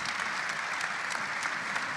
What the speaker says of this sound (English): all of our panelists deserve a round of applause